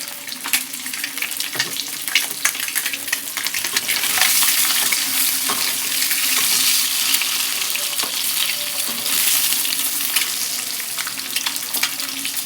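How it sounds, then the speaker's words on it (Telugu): Egg and drumstick curry fries in a pan while being stirred, giving a loud, continuous sizzle and crackle with scraping stirring strokes throughout, close and steady. "కలుపుతూ ఫ్రై చేసుకోవాలి, లేకపోతే కింద మాడిపోతుంటుంది"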